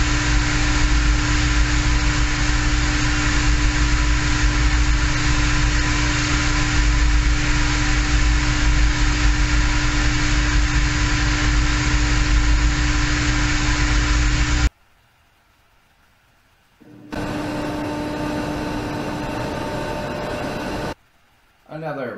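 An industrial boiler burner roars with a steady, loud combustion rumble and a constant hum. Near the middle it cuts to near silence, then a thinner roar returns for a few seconds and stops again.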